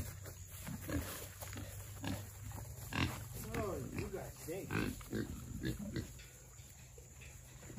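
Homestead pigs grunting and oinking in a run of short, close calls, several clustered in the middle, over steady outdoor background noise and a low hum.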